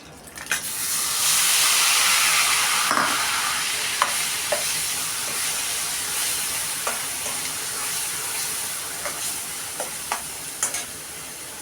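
Onions tossed into hot oil in a pan for egg curry, a sudden loud sizzle that settles into a steady hiss with scattered pops, close up and without voices.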